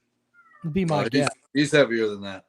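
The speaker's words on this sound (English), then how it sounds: "I don't know if you can hear that in the background, but that's my cat" A female cat in heat meows and yowls in the background of a room while someone talks over it, the cries blending with his voice in two short bursts.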